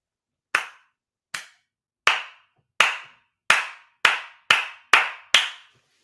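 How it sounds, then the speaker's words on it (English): Nine sharp, solo hand claps ring out one by one in a slow, steady rhythm, each crisp and close with a short echo, accelerating slightly toward the end. "I just got to give ARK a big round of applause"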